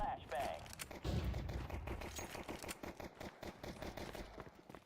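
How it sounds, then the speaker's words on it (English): A flashbang grenade going off in a video game: a sharp early burst followed by a rapid run of gunfire-like cracks and bangs, with voices heard faintly underneath. "Throwing flashbang."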